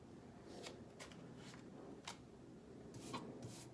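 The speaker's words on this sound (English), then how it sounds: "I feel guided to draw 2 more cards" Tarot cards are drawn and shuffled close by, giving soft, quiet riffling and sliding rubs in a loose, irregular rhythm with a few light taps, and nobody speaks.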